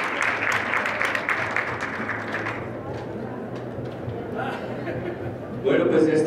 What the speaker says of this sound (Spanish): Vamos a darle un aplauso muy, muy grande a la doctora